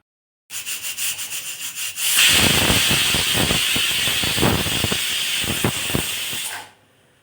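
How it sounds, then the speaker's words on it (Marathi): A pressure cooker cooking crab curry gives a few rhythmic puffs, then bursts into a loud, sustained hiss of escaping steam that cuts off abruptly. "तर इथे चार ते पाच सिट्ट्या करून घेतल्या आहेत"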